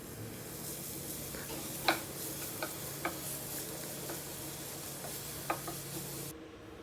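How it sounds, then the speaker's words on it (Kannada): Chopped onions frying in oil, a soft steady sizzle with a few sharp ticks and taps of a spoon against the pan, no talk. "ಸೊ ನೆಕ್ಸ್ಟ್ ಬಂದುಬಿಟ್ಟು ಚಾಪ್ಡ್ ಆನಿಯನ್ಸ್ ಹಾಕಬೇಕು ಅದಕ್ಕೆ ಆಯಿಲ್ಗೆ"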